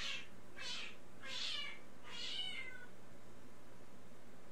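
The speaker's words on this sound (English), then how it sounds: "That is not a happy kitty." An unhappy pet cat lets out four drawn-out, plaintive meows in steady succession, fairly close and clear against a quiet room with a low background hum, and no one speaking.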